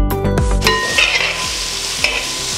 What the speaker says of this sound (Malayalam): ഒരു 400 ഗ്രാം സവോള സ്ലൈസ് ചെയ്ത് ചേർത്ത് കൊടുക്കാം.